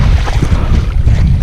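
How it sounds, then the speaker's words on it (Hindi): Strong wind roars across the microphone at Ranikot Fort, near icy running water, as loud, continuous, low buffeting rumble with no voices. "यहाँ पे ऐसी हवा चल रही है भाई कि क्या बात है"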